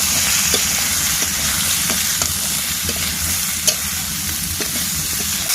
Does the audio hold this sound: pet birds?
no